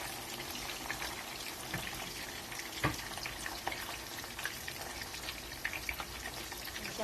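Fish deep-frying in hot oil in a pan, a continuous close crackling sizzle with scattered sharper pops and spits.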